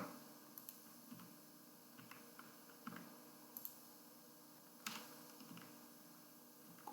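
Computer keyboard typing while coding PHP, faint scattered key clicks in small irregular bursts against a quiet room background.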